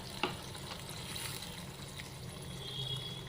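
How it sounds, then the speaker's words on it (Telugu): Tamarind broth with a tempering bubbles gently in a pan, a faint, steady simmering hiss with a soft tap near the start and no talking. "చూడండి పులుసు మరుగుతుంది"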